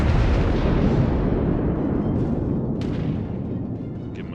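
Heavy naval guns from the Ishizuchi battleship fire a salvo in the World of Warships video game, a loud, deep booming roar that slowly decays over several seconds, with a few faint sharp ticks near the end.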